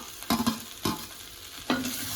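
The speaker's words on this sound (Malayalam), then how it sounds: "എന്നിട്ട് നന്നായിട്ട് ഒന്നും കൂടി ഒന്ന് ഇളക്കി കൊടുക്കാം." A spoon stirs fried chicken pieces through a sizzling masala in a pan for a traditional chicken roast, with a few scraping strokes over a steady fry hiss and no talk.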